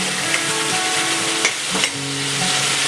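Onion-garlic masala roasts in a hot pan with a steady, close sizzle and occasional stirring scrapes, with no voices.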